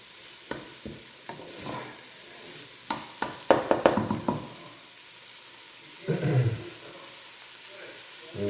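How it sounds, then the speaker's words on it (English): Vegetables sautéing at medium-low heat in oil and rendered meat fat for a Cajun chicken and sausage gumbo, a soft background sizzle with scattered spoon scrapes and clanks against the pot, a louder cluster of stirring midway. "We're using the oil and the renderings from the meat in here just to saute it down a little bit"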